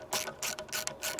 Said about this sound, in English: just a ratcheting system makes it easier for us to take all the bolts off very quickly